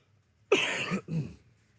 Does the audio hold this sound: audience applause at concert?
no